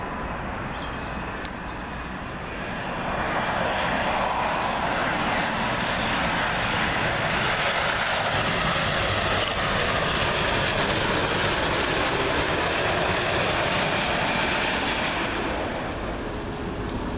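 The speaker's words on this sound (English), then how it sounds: "Comes another big heavy, United 787-9 Dreamliner in from Austin, Texas" A United Boeing 787-9 Dreamliner arriving at Heathrow on runway 27L: a loud, steady jet roar swells in after a couple of seconds and holds close overhead, then eases slightly at the end, with no voices.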